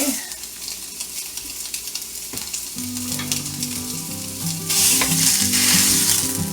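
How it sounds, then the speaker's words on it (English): Bulk sausage sizzles steadily in a frying pan, a dense, close crackle that runs throughout while tonal music comes in partway and grows louder; no one speaks. "So I'm going to let this fry."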